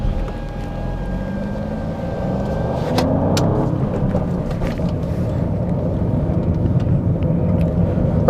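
An Alfa Romeo Giulia Quadrifoglio with a 510-horsepower 2.9-litre engine drives laps, giving a steady, loud engine drone with rising tones and a few sharp transient knocks, and no voices.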